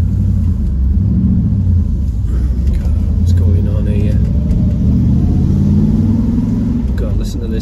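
A classic Triumph Stag driving on the road in North Yorkshire, its engine giving a steady low rumble throughout, with someone talking over the drone from inside the car.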